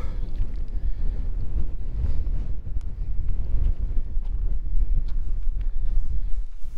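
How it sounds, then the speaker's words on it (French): Strong, gusty wind at a mountain pass in the Queyras buffets the microphone with a loud, constant roaring rumble, rising and falling in bursts throughout. "Je sais pas si vous m'entendez, mais bon, tellement de vent"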